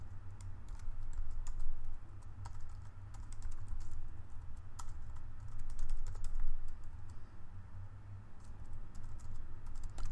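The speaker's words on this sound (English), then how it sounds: "I'm going to stop here and start typing" Computer keyboard typing with irregular clusters of sharp key clicks over steady low hum, continuous for about ten seconds, moderately near and without speech.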